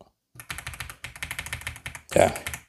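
An AULA F75 mechanical keyboard clacks under a rapid run of keypresses, a dozen or so crisp taps in quick rhythm ending with a louder cluster, close to the microphone.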